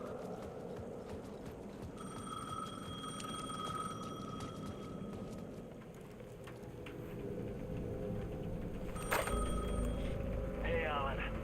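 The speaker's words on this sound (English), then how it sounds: "The payphone at the edge of the plaza was ringing again." Payphone at the edge of a plaza in Alan Wake 2 ringing in repeated electronic trills amid dark ambient game noise, with a voice talking over it.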